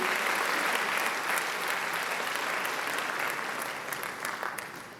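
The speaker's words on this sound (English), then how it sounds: "So let's give him a very, very big round of applause, please" A graduation ceremony crowd gives a big round of applause for the chief guest, dense sustained clapping from many hands that holds steady for about five seconds before easing slightly at the end.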